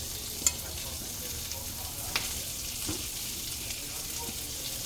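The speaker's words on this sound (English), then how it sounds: "so I'm flipping my sausage." Flipped sausage frying in a pan gives a soft, steady sizzle at low level, broken by a few light clicks and scrapes of a utensil.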